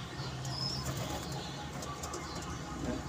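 A white pigeon beats its wings in a soft, continuous flutter against a hissy background with faint chirps and coos from other birds nearby.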